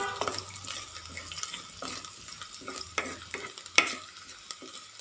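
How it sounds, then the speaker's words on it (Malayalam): Minced garlic and potatoes being sautéed in a pan for a potato fry, with a spatula scraping and stirring in irregular clacks over a soft sizzle, close and moderately loud. "ഒന്ന് വഴറ്റി കൊടുക്കാം."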